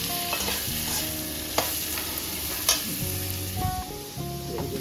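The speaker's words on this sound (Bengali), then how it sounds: "তো এটা ভালো করে ভাজতে হবে, তেল দিতে হবে" Pumpkin pieces seasoned with salt and turmeric fry in oil in a pan, a steady close sizzle broken by repeated scraping stirs throughout.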